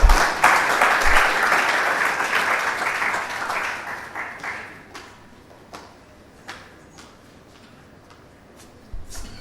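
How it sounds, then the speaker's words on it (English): Applause from a university lecture audience fills the hall at a Vice-Chancellor's occasional lecture, loud at first and fading over several seconds into scattered claps, shuffles and isolated knocks. "Please, a warm round of applause as she comes up."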